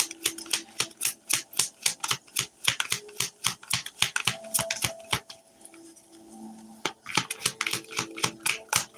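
Oracle cards are shuffled by hand in rapid, rhythmic bursts of crisp riffling slaps and flicks, heard close and steady with a brief pause midway, over a faint background hum.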